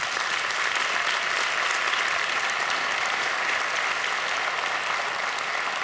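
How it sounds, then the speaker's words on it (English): A large audience claps in sustained, dense applause to thank first responders, a loud and even wash of hand claps that holds steady throughout with no talking. "would you right now thank by applause those kind of people in our"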